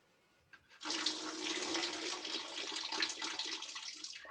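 Water pours into a clay pot, a sudden rush after a brief quiet that settles into a steady, close splashing stream.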